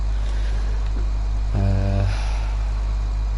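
Tractor engine in Farming Simulator 17 hums at a steady low idle, then a brief turbo-laden rev swells for about half a second before settling back to the constant drone, close and with no speech.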